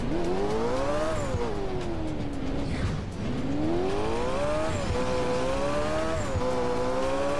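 A 1300 hp sports car roars through a racing video game, its engine pitch climbing, dipping sharply around three seconds, then rising again across steady shifts, loud and continuous with faint tire noise.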